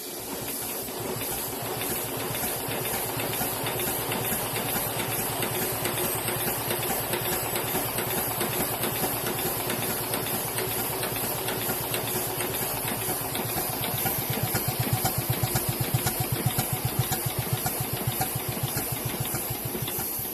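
A Sweet Pea miniature steam locomotive, its valve settings freshly adjusted, runs steadily with a fast, even chuffing beat over continuous hiss, loud and close throughout.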